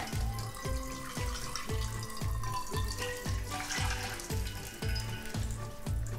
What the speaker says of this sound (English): So liquid is coming out of this.